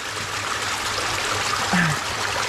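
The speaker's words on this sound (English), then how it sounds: "I got water flowing through here, and I'm laying in it, and it's coming out of this giant pond." Water flows steadily through a cave passage, fed from a large pond, as a continuous close trickling and rushing wash that holds at an even level throughout.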